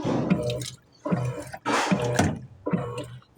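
An Electrolux Turbo Economia 8 kg top-loading washing machine sprays water forward while washing a double duvet, giving four loud splashing, gushing bursts with short pauses between them.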